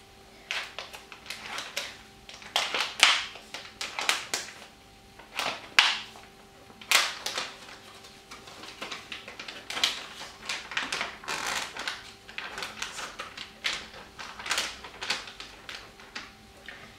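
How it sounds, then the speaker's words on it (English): A knife slicing meat on a board for a salad, many crisp close cutting strokes in an uneven steady rhythm, soft and intimate, with no talking. "So I'm going to use this to cut the meat."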